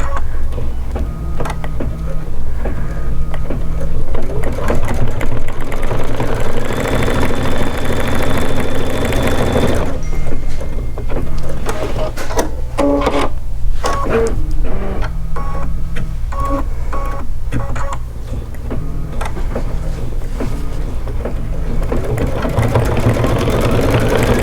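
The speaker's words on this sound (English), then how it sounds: "now it's doing that basting stitch I was just talking about around the outside" A Kimberbell embroidery machine stitching a flamingo design runs steadily and loudly at close range, its rapid needle hum and rattle continuous throughout, with shifts in tone as the stitching changes, no voices.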